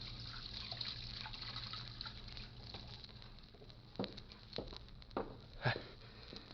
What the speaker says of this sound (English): Then I went over to the washstand and started to wash.